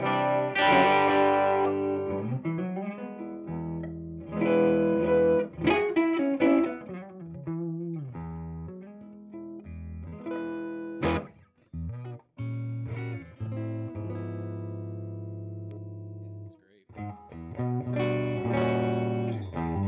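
A Collings electric guitar played through distortion and chorus effects, ringing chords and single notes with pauses between phrases, no voices.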